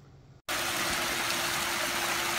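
A backyard pond waterfall with a newly installed liner gives a steady, close, full rush of falling water. It starts abruptly after a brief quieter moment and runs on alone.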